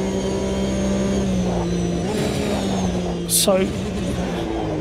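Racing video game car engine droning steadily on a circuit during a three-lap challenge, a constant mid-pitched hum with a brief higher rev burst near the end, under continuous talk.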